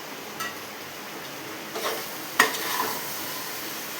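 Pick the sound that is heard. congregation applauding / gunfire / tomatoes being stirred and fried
tomatoes being stirred and fried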